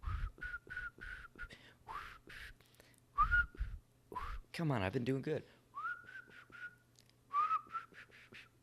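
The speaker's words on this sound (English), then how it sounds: "I still can't whistle well." A man attempts to whistle in a series of short, breathy, wavering tones, some faltering, interrupted by a brief spoken phrase and laughter close to the mic.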